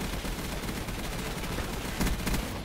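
Gunfire in the video game Call of Duty: Black Ops 3, a quiet rapid crackle of shots under game noise, with a slightly louder burst near the end.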